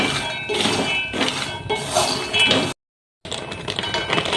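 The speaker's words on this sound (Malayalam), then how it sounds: "ഇതിനുള്ള കപ്പലണ്ടി നമുക്കൊന്ന് വറുത്തെടുക്കാം" Two hundred grams of dry peanuts roast in a pan for peanut candy, giving a steady, busy clatter and rattle of nuts against the metal that breaks off briefly into silence before resuming.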